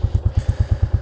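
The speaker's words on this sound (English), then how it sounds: "That is the sound of a Royal Enfield." A Royal Enfield 350 Classic motorcycle single-cylinder engine thumps close by at idle with a steady, even, low pulse, loud and alone.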